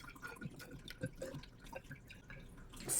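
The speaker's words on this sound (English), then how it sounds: "we're going to pour 15 milliliters of vinegar into our graduated cylinder, which measures the volume of a liquid" Vinegar, about 15 milliliters, poured into a graduated cylinder gives a faint, close trickle with small drips and splashes, heard alone without talk.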